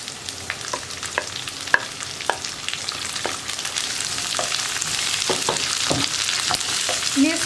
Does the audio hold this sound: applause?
no